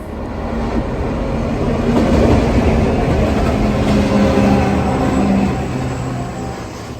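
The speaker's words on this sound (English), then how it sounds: "a big freight train comes." A big freight train rolls past a pedestrian crossing, a loud, steady low rumble and rattle of wagons that swells in the middle and holds for the whole stretch, with no one talking.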